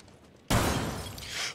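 Glass breaks in the Rainbow Six video game, a sudden loud burst of shattering that starts abruptly and then rings on as a bright, sustained crashing spray of shards for about a second.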